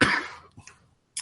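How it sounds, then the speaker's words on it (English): A single harsh cough bursts out at the start, with fainter throat noises after it and a short rasp near the end, from a host on a sports talk show. It is close and loud, with no speech. "God damn it, the stupid cough."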